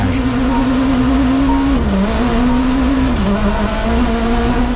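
A WRC-type rally car competing in a Canadian national rally championship event, its engine droning loud and steady throughout, the pitch rising and dipping twice with gear changes as it drives close by.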